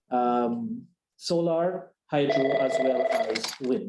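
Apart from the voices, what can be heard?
telephone ringing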